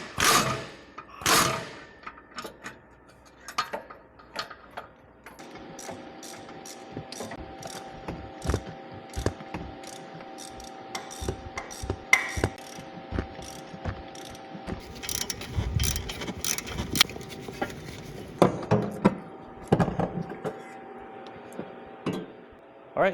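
A hand ratchet loosening 12mm exhaust header bolts on an Acura RSX with a K20A3 engine, repeated close clicking pawl strokes in bursts with metallic clinks, tool handling and a few pauses over about twenty seconds.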